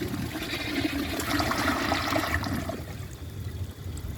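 A 1994 Kohler Wellworth Lite toilet flushes a washcloth down with a close, rushing gush of water that swirls and fades toward the end, with no talking over it.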